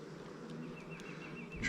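Honey bees buzzing around a beekeeper handling a queen during a hive split check, a steady close drone with a few brighter wingbeat whines passing near.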